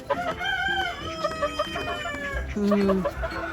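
Farm chickens cluck and a rooster crows with a long, wavering call, fairly close, over the noise of the yard, with a person speaking briefly.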